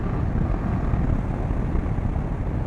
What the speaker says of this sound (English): if I switch down to third gear and I hit the throttle